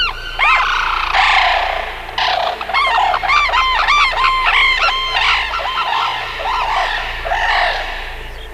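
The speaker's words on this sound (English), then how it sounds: "these are three birds that are calling together" Three wild birds call together in a loud, overlapping chorus of rising, honking notes that ring out close over a constant low hum of background noise.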